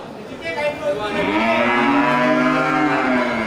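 Two Bali beef cattle at a livestock stall give long, loud, close moos, one drawn-out call swelling and holding steady, with a little background noise.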